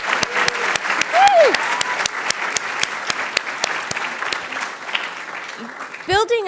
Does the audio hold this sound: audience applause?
yes